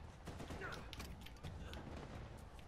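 Gunfire in the video game Uncharted 4, a dense run of overlapping shots and bursts at steady loudness throughout, with mechanical clatter mixed in.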